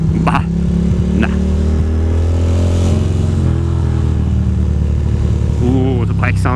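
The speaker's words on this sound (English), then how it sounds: "the bike sounds mean-alicious." A motorcycle rumbles and revs in rainy Brooklyn traffic, its engine droning steadily with rising and falling pitch throughout, close and loud, while a voice talks over it now and then.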